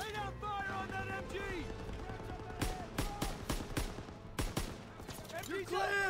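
Bursts of machine gun fire in the World War II shooter Call of Duty: WW2, with rapid clustered shots around the middle and end of the clip, set amid battle noise and shouted voices.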